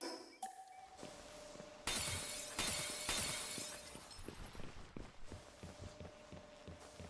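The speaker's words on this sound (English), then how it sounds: "Glass shatter sounds nice." Glass panes shatter repeatedly in a video game, sharp crashing bursts followed by tinkling debris and clinks, several breaks in quick succession with light footsteps between, fairly close and alone without talk.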